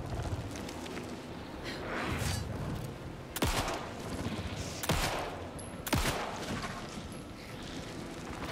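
Gunfire in the Alan Wake 2 video game, a few sharp loud shots cracking out over a dense rumbling game soundscape.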